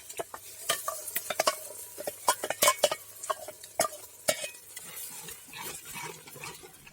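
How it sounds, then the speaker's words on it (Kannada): Ground masala goes into a hot pan with tomato and is stirred, giving close, irregular scrapes and clinks of a utensil over a soft sizzle, with no voices. "ರುಬ್ಬಿಟ್ಟ ಮಸಾಲವನ್ನು ಹಾಕ್ತಿದ್ದೀನಿ."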